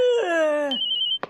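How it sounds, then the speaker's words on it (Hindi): A telephone rings loudly and close in a household scene from a Hindi sitcom, a rising synthetic ringtone tone followed by a sustained electronic trill and a brief clatter at the end, with no talk over it. "अरे किसका फोन?"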